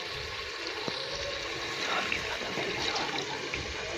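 Water pours into a cooking pot of fried potatoes and spices for a rice dish, a continuous splashing, gurgling rush at moderate volume that runs steadily throughout.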